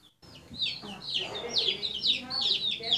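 Several chicks cheep in rapid, high, overlapping peeps, close and fairly loud, with a voice talking quietly underneath.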